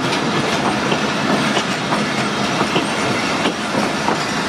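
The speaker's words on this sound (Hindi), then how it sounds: "38 डाउन फ्री एक्सप्रेस में। सुबह लाहौर से 6:15 निकली थी, तकरीबन 9:30 कंगनपुर रेलवे स्टेशन पहुंच रही है" An express passenger train pulls into Kanganpur railway station, a steady loud rumble of wheels clacking over rail joints with faint squeal, close by and continuous.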